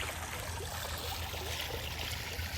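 A park water fountain trickles and splashes in a steady, quiet stream of running water, heard alone with no voices over a faint outdoor background.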